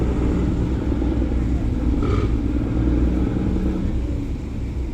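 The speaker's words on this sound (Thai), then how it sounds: "เรือประมงกำลังเข้าท่าเทียบเรือประมงนะครับ" Low, steady rumble of a fishing boat's engine as it comes into the fishing pier on the Pattani River, holding continuous and fairly close for the whole stretch with a brief faint chirp partway through.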